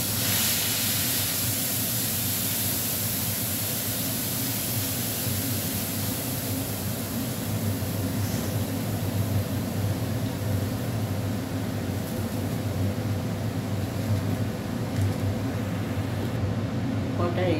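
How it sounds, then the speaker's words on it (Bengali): Milk poured into a pan of fried vermicelli (semai) for payesh, giving a steady, loud broadband hiss and bubbling wash that runs evenly throughout, with a low rumble beneath. "দুধ দিয়ে দিচ্ছি।"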